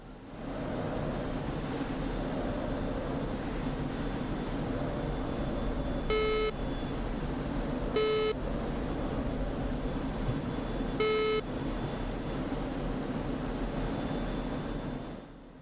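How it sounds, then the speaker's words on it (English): In a MiG-29A Fulcrum cockpit in the DCS flight simulator, the radar warning receiver sounds three short, harsh, buzzy beeps, spaced unevenly, over a steady roar of engine and rushing air. "I'm not a fan of exactly how the RWR sounds, but that is not a module issue, that is a Soviet engineering issue. It is a very obnoxious beeping"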